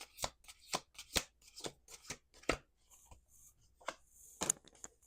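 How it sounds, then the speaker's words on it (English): Tarot cards are shuffled by hand in a series of quick, crisp riffles and slaps, close to the listener, with uneven bursts over several seconds and no talking. "We're going to do two more shuffles."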